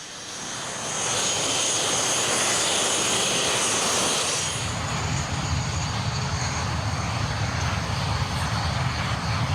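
A jet aircraft roars past at an airshow, a loud broadband rush that swells, peaks for a few seconds, then drops into a lower sustained rumble as it moves away, with no speech.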